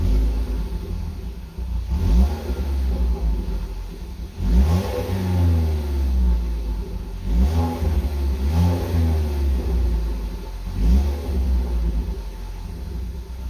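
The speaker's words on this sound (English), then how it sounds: "Car sounds really good." Mazdaspeed3 with a custom dual exhaust revving, several throaty blips rising and falling over a rumbling idle, close and fairly loud, with no talk.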